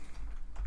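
Quick computer keyboard typing, a short close-up burst of key clicks heard on its own.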